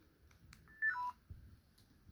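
Old mobile phones give a few faint keypad tones, the sounds rising into a brief two-step beep in the middle, with quiet background rumble throughout.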